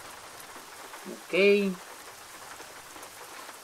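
Rain in the American Truck Simulator video game patters as a soft, even hiss throughout, with a brief spoken word breaking in near the middle.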